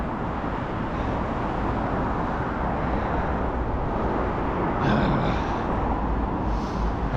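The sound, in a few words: car traffic noise on a road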